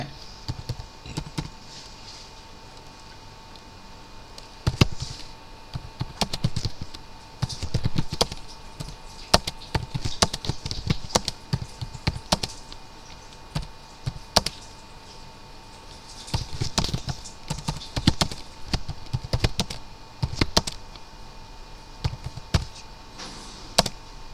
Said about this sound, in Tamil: இந்த மாதிரி டைப் பண்ணுறீங்க, இந்த மாதிரி டைப் பண்ணியிருக்கீங்க